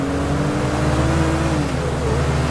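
A Tofaş Şahin car in GTA 5 drives along a straight road with a steady, buzzing engine drone that rises slightly and then eases off, close and continuous with no talk.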